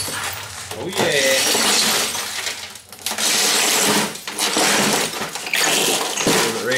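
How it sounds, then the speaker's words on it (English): A television screen is smashed while scrapping a TV for metal, with loud bursts of shattering and crunching glass coming in several long waves and brief pauses between them, close and harsh. "Right up so it shoots the glass at you guys. Pop some glass out at you."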